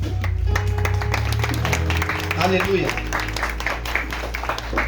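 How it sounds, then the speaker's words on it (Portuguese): A church congregation claps during an evening service, rhythmic clapping over a low electric hum and sustained musical tones, with a voice calling out briefly. "Aplauda o Senhor."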